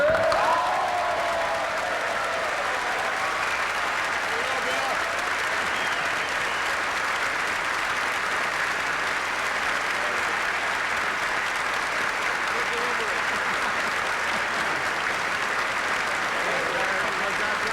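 Sustained applause fills the House chamber as the US President enters for the 2004 State of the Union address, a dense, steady roar of many hands under a crowd murmur, holding at full strength throughout.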